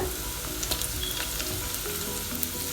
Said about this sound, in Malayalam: ഇഞ്ചിയും വെളുത്തുള്ളി ഒന്ന് മൂത്ത് വരുന്നവരെ നമുക്കൊന്ന് വഴറ്റി യോജിപ്പിക്കാം